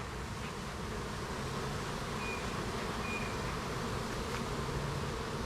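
A dense, steady buzz of many honey bees fills the air, loud and close, a constant drone without pauses or voices.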